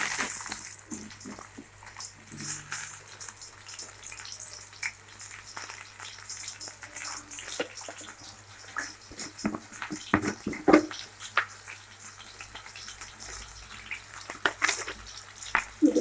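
Potatoes dropped into hot white oil in a wok on a stove, frying with a steady close sizzle and scattered spattering pops and crackles throughout, with no talking.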